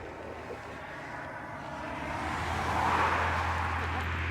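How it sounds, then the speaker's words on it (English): Cars pass on a road while people wait to cross, a moderate tire-and-engine swell building toward the end, not very close, over quiet outdoor ambience. "Right now we're just waiting for these cars to pass so we can cross the road."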